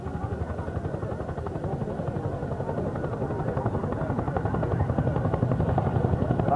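A Chinook helicopter flies at the 1987 Cranfield Air Show, its twin rotors beating in a fast, steady thump that grows gradually louder as it approaches.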